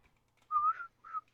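A person whistles a short tune, two drawn-out melodic phrases with a brief gap between them, clear and fairly close over near silence.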